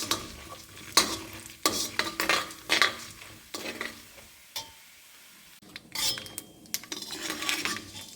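Seasoning fries in hot oil in a pot for ridge gourd curry, a sizzling hiss under repeated metal spoon scrapes and clinks as it is stirred in uneven bursts, with no voices.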